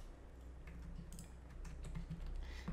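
A computer mouse clicks repeatedly during video game play, the faint sharp taps coming in a loose uneven string over a quiet background hum.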